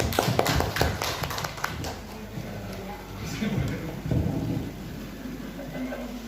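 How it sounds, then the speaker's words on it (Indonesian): A group of teachers at a school gathering claps in a brief burst of applause, scattered and fairly faint, then a voice carries on speaking over the room. "Tepuk tangan buat Bapak Ibu guru semua"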